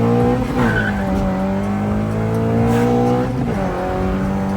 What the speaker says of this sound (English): when you hear the VTEC kick in, you know that it's there